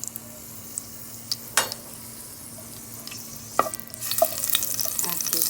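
Onion fries in a pan with a faint steady sizzle, broken by a few sharp clinks and scrapes of stirring, with the sizzling growing louder near the end.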